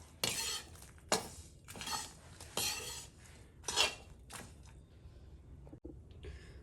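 Roasted makhana (fox nuts) crushed and mixed in a bowl for panjiri, giving several loud scraping, crunching bursts with brief pauses between them and a softer clink near the end, with no talking.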